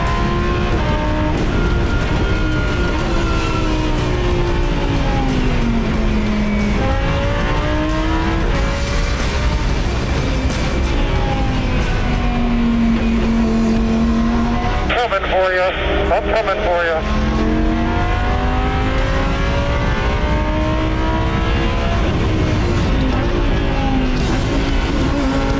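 McLaren supercar on a race track, engine revving loudly and continuously with rising and falling gear sweeps as it accelerates, heard close up from inside or near the car.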